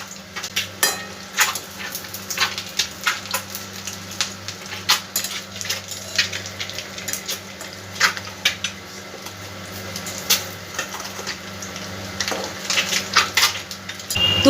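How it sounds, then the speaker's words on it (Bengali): Eggs fry in oil in a pan for an egg pepper fry while a spatula scrapes and flips them, giving repeated close clinks and scrapes over a steady sizzle, with no talking. "প্রত্যেকটা ডিম এইভাবে আমি ভালো করে ভেজে নেবো আগে। এবার একটা পিঠ উল্টিয়ে দেবো আস্তে করে।"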